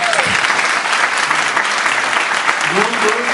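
Wedding guests break into applause during the ceremony, a loud, dense burst of clapping close by, with a voice speaking briefly at the start and again near the end.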